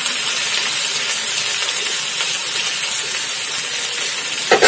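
A paste of ground cumin, ginger, garlic and chili sizzles in a hot pan, a loud, steady broadband hiss that runs throughout, with a brief clatter at the very end.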